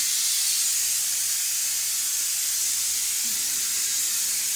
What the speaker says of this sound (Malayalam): കുക്കർ വിസിലടിച്ചു.